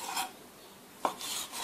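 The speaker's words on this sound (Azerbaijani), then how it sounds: "Sosiskanı əvvəlcə iki hissəyə bölürəm." A knife cuts a sausage in half on a board, two short scraping strokes with a small knock of the blade, close and quiet with no talking.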